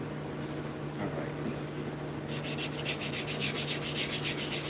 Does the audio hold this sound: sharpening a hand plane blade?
yes